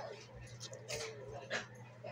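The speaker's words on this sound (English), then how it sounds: "My dogs are playing" Faint yips and soft whimpers from dogs at play, quiet and scattered over a low background rumble.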